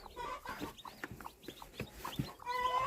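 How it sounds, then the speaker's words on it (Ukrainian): A small bantam broody hen in a Ukrainian yard clucks in quick, soft, irregular bursts at close range, with other poultry calling faintly in the background. "Ось тут бентамочка ось є"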